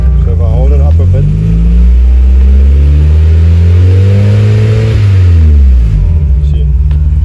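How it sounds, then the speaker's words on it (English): A VW Polo engine being tuned revs up loudly and holds a strong, rising hum for several seconds before dropping back, close up, with a person talking over it at the start and end. "see as I rev it where the fuel picks up"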